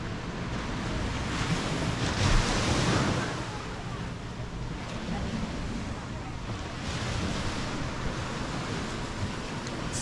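Ocean surf and steady wind at Beau Vallon, also called Sunset Beach, in the Seychelles, with a continuous broadband wash that swells briefly near the start and rumbling wind noise on the microphone throughout.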